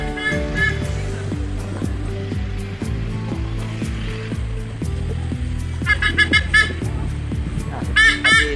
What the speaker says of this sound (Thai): อ๋ออินทรีทะเลครับอินทรีทะเล